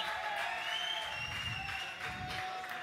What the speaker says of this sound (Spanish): un fuerte ruido y un fuerte aplauso para los 10 jugadores